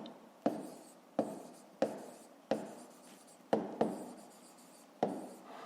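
A pen moving across paper while working a fifth-grade maths exercise, seven crisp taps and strokes at roughly even intervals, each fading quickly, quiet and close with no voice.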